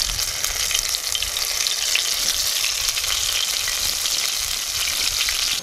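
Battered zucchini blossoms fry in hot oil in a pan, giving a steady, close, dense crackling sizzle that holds constant throughout with no talk.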